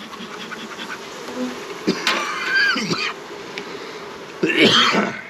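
Honeybees buzz close by during a weekly check of a home beehive, a continuous droning hum with brief louder swells. A low voice or breath sound comes through faintly near the middle.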